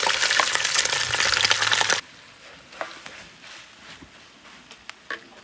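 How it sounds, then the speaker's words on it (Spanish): Beef hitting hot lard in a pan for red Sonoran tamales: a loud, dense sizzle for two seconds, then a quieter frying crackle with a few sharp pops. "Ahora ya la manteca calentó y voy a ponerle"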